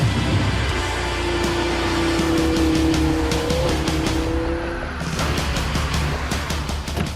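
A 2014 Techart Porsche Cayman S coupe drives on German roads, its engine droning loud and close with a rising tone partway through, over steady tyre and road rush.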